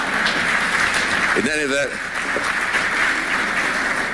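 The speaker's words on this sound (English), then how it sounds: "If you want to interrupt me with a burst of applause, I will understand" Sustained applause from a live audience at a conservatism-versus-liberalism debate fills the room steadily from start to finish, with a voice briefly speaking over the clapping partway through.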